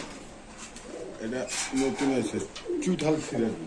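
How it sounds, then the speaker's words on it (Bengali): Grizzle pigeons cooing at a pigeon market, a few low rolling coos close by, mixed with someone talking over them. "এটা গ্রিজেল কবুতর ভাই এত বড় কবুতর"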